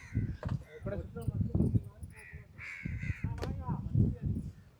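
Two crows caw near the listener in Rameswaram, with repeated harsh calls clustered in the middle of the stretch, set against ongoing close conversation.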